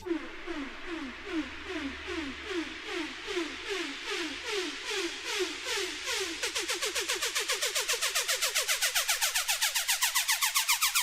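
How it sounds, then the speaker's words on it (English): A dubstep build-up riser before a drop builds from slow, pulsing wobbles into rapidly repeating bright stabs that speed up and climb in pitch, growing more intense throughout. "Just a great build-up sound that starts off slow and hypes up everything."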